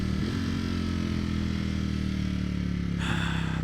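The engine of a 2021 Ducati Streetfighter V4S motorcycle gives a steady, loud, close-up rumbling drone with a faint whine throughout, and a brief brighter rush of noise near the end.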